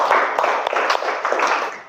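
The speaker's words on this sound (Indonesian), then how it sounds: "tepuk tangan untuk kita semua" Schoolchildren in a classroom give a short, lively round of hand clapping at the end of a lesson.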